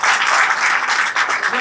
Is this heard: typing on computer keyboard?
no